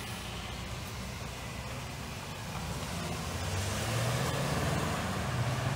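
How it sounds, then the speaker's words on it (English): Road traffic passes along a small-town street in historic Athens, Kentucky, a steady low rumble of cars and trucks that swells and grows closer toward the end. "A lot of traffic."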